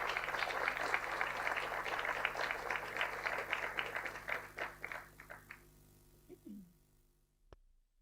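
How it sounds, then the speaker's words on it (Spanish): An audience at a panel discussion on human mobility and migration in Chile gives sustained applause that thins to scattered claps and fades out, followed by brief quiet. "un fuerte aplauso para ella"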